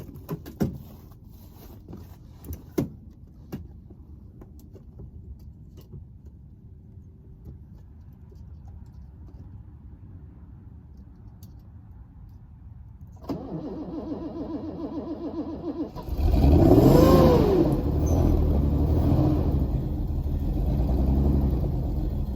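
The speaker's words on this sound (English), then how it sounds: "cold start for Bobby's car" A car engine, said to probably have a cracked head, sits quiet at first. It cranks and catches on a cold start after a faint background stretch, then revs up loudly before settling to a rough, close idle.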